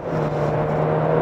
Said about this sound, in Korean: 가속 페달 쭉 하면 킥다운